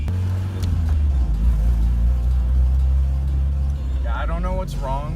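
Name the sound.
1983 BMW E21 320i engine revving at full throttle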